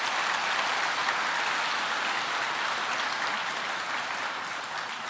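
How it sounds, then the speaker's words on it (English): Steady, dense audience applause at a commencement ceremony, an even wash of many hands clapping throughout with no break or voices. "So let's give them another round of applause."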